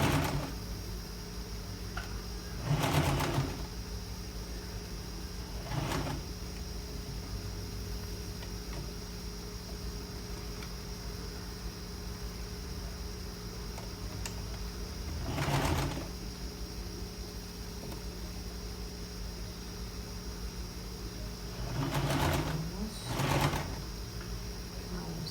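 A sewing machine stitching a shirt seam, running in several short bursts of steady mechanical whirring against a quiet room hum, with a few soft bird calls in the background.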